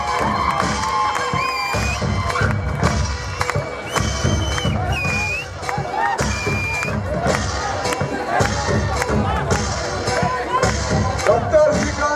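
A large outdoor crowd at a political rally claps and cheers to welcome a member of parliament. The applause is dense and continuous, with shouts and whoops rising above it, and a voice can be heard through the noise.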